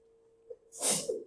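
One person sneezes once in a lecture classroom, a single fairly faint breathy burst over a low steady hum.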